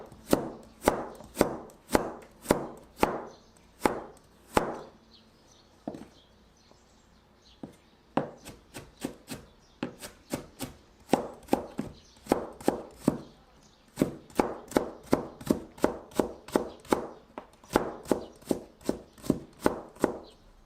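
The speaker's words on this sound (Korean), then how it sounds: "당근도 채 썰어 줄게요." A kitchen knife julienning carrots on a cutting board makes crisp, evenly spaced chops in steady rhythmic runs, close and clear, with a few short pauses between batches.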